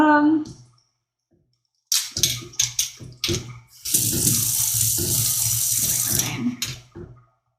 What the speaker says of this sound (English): Just rinsed it out, but there was cinnamon in there before.